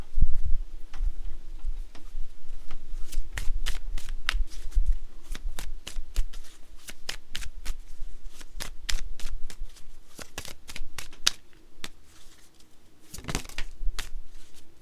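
Telepathy oracle cards being shuffled outdoors on a chilly day, a long run of quick crisp riffling flicks close to the mic, coming in bursts with brief pauses, and no talk.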